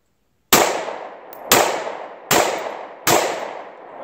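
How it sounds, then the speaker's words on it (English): Four sharp pistol shots from a Glock fitted with a G19 slide during test-firing, spaced roughly a second apart, each a loud close crack with a short decaying tail and no talking. "I'm just testing this gun out."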